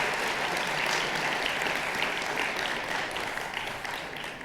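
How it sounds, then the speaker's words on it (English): An indoor audience applauds graduates at a Saudi student event, a dense sustained wash of many hands clapping that slowly tapers at the end. "if we can all give them a round of applause for coming out tonight"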